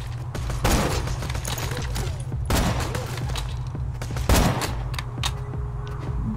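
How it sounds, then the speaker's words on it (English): Sniper rifle shots from the video game Borderlands 2, loud sharp cracks repeating every second or two over a steady low game hum, with no talking. "I'm gonna go ahead and get my sniper rifle out."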